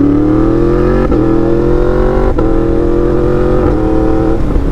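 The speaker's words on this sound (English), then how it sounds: "But as you can see, guys, I'm loving the MT-10. I ride this thing every day" A Yamaha MT-10 motorcycle engine drones loudly and steadily while riding on a street, its pitch climbing through each gear and briefly dipping at quick shifts.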